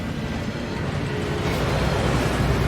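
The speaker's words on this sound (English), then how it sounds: "That waterfall washes away all enchantments." A waterfall at Gringotts in the video game Hogwarts Legacy roars as a loud, steady broadband rush of falling water, constant and close, with no talking.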